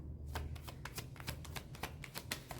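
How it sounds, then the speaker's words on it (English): Tarot cards riffled and shuffled by hand in a quick run of crisp, papery clicks and flutters, close and fairly quiet, with no talking. "let me shuffle these cards because I want to see if it comes out."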